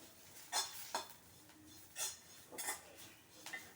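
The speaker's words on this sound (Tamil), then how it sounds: "இந்த ஸ்டேஜில் ஒரு ஸ்பூன் கடலை மாவு போட்டு வதக்கணும்" Gram flour being sautéed in a pan for a curd-and-eggplant dish, heard as several separate spoon-on-pan scrapes and clinks at an uneven pace, fairly quiet over a soft background with no talking.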